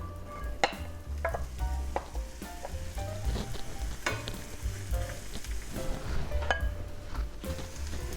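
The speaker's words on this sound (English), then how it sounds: "We'll start by heating some olive oil over medium heat in a skillet, and then we'll just saute the onions." Onions sauté in olive oil in a skillet over medium heat, giving a soft continuous sizzle with occasional clinks and scrapes of a utensil stirring close by.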